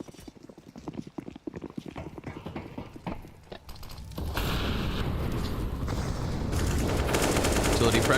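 Rifle gunfire during a Counter-Strike match, the first rounds of a competitive game: clicky taps and sharp shots under a commentator's voice, then a sustained dense rattle of firing filling the second half.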